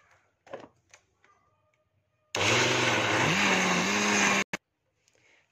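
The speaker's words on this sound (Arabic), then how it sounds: "حضر الخلاط ونبتدي نخلط الطماطم." A blender blending tomatoes roars loudly for about two seconds, its motor pitch dipping briefly, then cuts off abruptly, with quiet clinks before and after.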